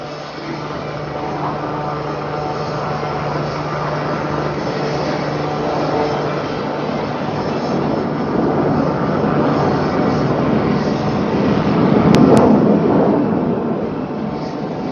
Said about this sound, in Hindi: इस मैनूवर के दौरान टीम के सारे मेंबर्स एक दूसरे से मात्र 5 मीटर की दूरी पर उड़ान भर रहे हैं